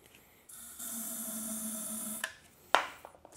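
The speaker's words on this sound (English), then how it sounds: "Now we take our hairspray," A steady hiss of hairspray from an aerosol can, sprayed into a potato cannon, lasts about a second and a half, followed by a sharp click and small handling noises.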